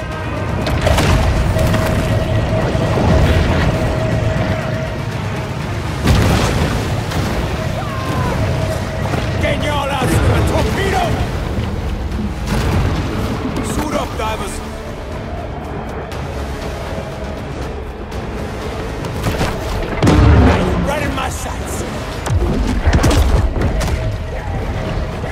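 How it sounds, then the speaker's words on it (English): Torpedo explosions in the game Maneater hit as heavy booms and crashing bursts over steady loud rumble, several blasts spread through the stretch, with character voices talking at points. "Bet you didn't think I had torpedoes!"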